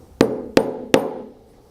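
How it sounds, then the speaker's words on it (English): Three sharp metallic hammer taps spaced evenly, driving a ball bearing into a small air port on a CivaControl II air system valve during repair, close and ringing briefly alone. "and tap it in gently with a hammer."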